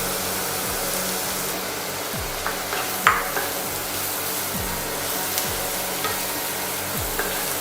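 Mushrooms sautéing in a pan for an Indian vegetarian dish, a loud, continuous sizzling hiss with regular scraping strokes of a spatula and one sharp clink partway through. No one speaks.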